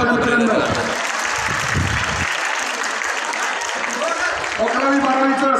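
An audience at a Ganesh festival prize-distribution ceremony claps loudly and steadily for several seconds, a dense wash of applause with a voice speaking over it at the start and end.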